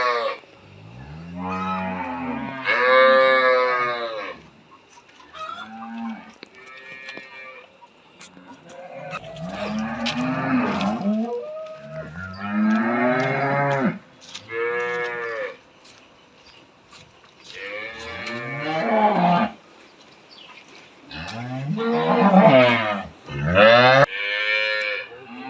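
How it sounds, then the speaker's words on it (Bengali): A four-tooth cow on her second calving moos repeatedly at a cattle farm. The calls are loud, drawn-out and nearby, separated by short pauses, with no talking. "এটা হচ্ছে আজকের ভিডিওর 4 নাম্বার গরু"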